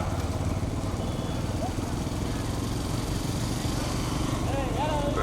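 A motorcycle engine drones steadily behind a bullock cart race at Karuppayurani in Madurai district, a dense continuous mid-pitched buzz running the whole time under loud commentary and crowd noise.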